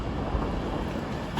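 Train at Crewe station on the West Coast Main Line, an Avanti West Coast service, a steady rumbling drone of passing rail wagons close by with slight rhythmic thumps.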